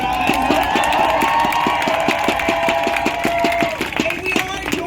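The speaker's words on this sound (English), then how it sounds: "Look at this incredible crowd, you guys." A rally crowd cheers and shouts loudly and continuously nearby, with rhythmic clapping or chanting running through it and a speaker's voice over the noise.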